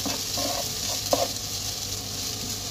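Grated coconut frying in a pan for chicken xacuti, a steady low sizzle under repeated scraping strokes of a spoon stirring it around, with a sharper clack near the end.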